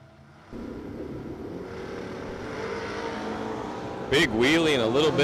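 Drag racing cars, including a Chevrolet Nova, launching at Darana Dragway as a steady engine rumble builds beneath a track announcer's voice, then a sharp surge of high revving roar near the end.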